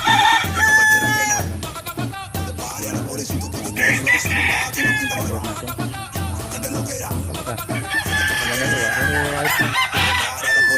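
Roosters crowing loudly and repeatedly at close range while chickens cluck around them on a backyard farm of gamecocks, with a busy, overlapping flock chorus throughout.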